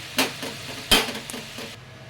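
Fried potatoes lifted out of a pan with a utensil: two sharp metallic scrapes against the pan, the second louder, then lighter clinks over a faint background sizzle.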